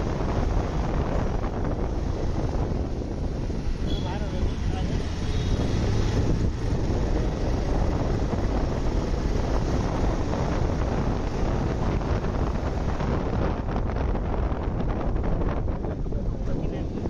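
A Pulsar 220F motorcycle is ridden along the Virar-Nallasopara Link Road, its passage buried under a constant roar of wind buffeting the microphone, loud and unbroken for the whole stretch, with possible faint voices.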